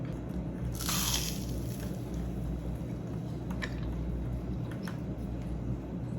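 A crunchy traditional Korean snack, airy and dense like styrofoam, is bitten close to the mic with a few sharp crisp crunches over a steady low background hum, and no voices.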